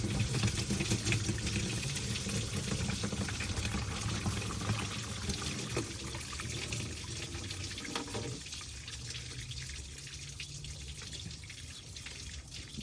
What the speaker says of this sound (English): All right, we fixing to lose some water,